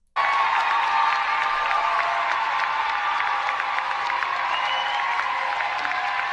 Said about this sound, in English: That's why they're applauding and cheering